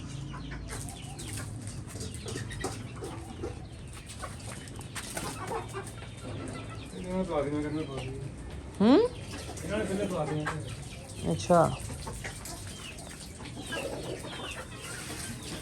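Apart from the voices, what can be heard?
birds (chickens) clucking near the food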